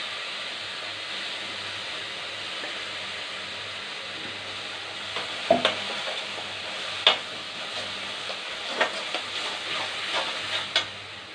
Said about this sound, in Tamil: இப்போ அரைச்சி வச்சுருக்க வெங்காயம், தக்காளி இதை போட்டு நல்லா வதக்கிடுங்க.